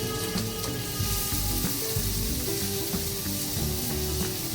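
A cup of onions frying in oil in a pan, a continuous loud close sizzle with faint stirring scrapes, no voices.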